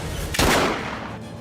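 A single sharp gunshot cracks out close by, followed by a short decaying echo.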